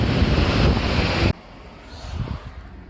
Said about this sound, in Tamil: ஜில்லுன்னு காற்றடிக்குது